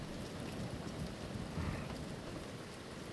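Heavy downpour of rain with rumbling thunder, a steady dense roar of falling water with low rolling thunder swelling briefly in the middle, continuous and loud with no voices.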